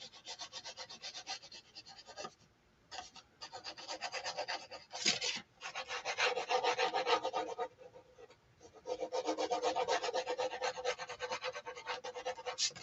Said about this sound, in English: So now we're just going to burnish that part down.